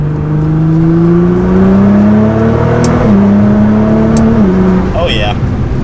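A Nissan GT-R accelerates hard, its engine tone rising steadily through the revs as the turbo comes in around 3,000 RPM, then easing off near the end, loud and close with speech over it.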